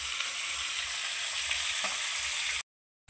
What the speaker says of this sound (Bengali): এক করে মাছ ভাজা।